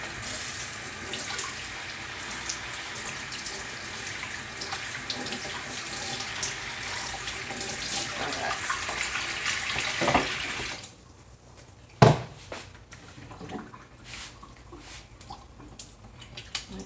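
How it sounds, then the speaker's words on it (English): Water pours steadily from a container into a potted ivy or aloe house plant for about ten seconds, then stops with a few trickles and drips, a light clunk and small handling sounds, close and without talk. "So now I'm going to add some water into this one."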